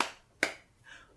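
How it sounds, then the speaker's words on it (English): A single sharp hand clap, followed by softer faint rustling, in a children's storytime action rhyme. "Give a little clap"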